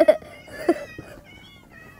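A Minecraft cat gives a couple of short, soft mews, one at the very start and another shortly after, with quiet background in between.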